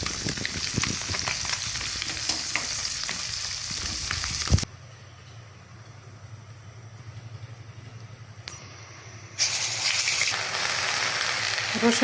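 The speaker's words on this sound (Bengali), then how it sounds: "এই পর্যায়ে পেঁয়াজ এবং রসুনকে ভালোভাবে কষিয়ে নেব" Onion and garlic frying in a pan with stirring, loud continuous sizzle that drops to a quiet hum for several seconds before the sizzling returns at full strength.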